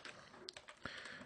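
Typing a whois query on a computer keyboard, a short run of separate key taps with one sharper stroke near the end, close and clear with no talking.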